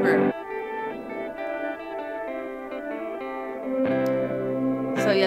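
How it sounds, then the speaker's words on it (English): Sustained synth-like tones pass through a reverb preset on a Poly Digit delay and reverb effects unit, each chord held and smeared into a long shimmering tail, moderately quiet and without talk. "Reverb."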